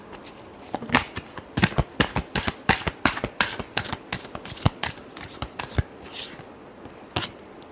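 Tarot cards are shuffled by hand in a rapid, irregular run of crisp riffling slaps and flicks. The sound is close and loud, with a short pause before a final snap, and there is no speech.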